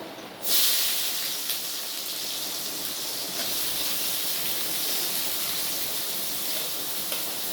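Chopped onions dropped into hot mustard oil for a chicken curry set off a sudden loud hiss that settles into a steady, close sizzle lasting several seconds, with no talking.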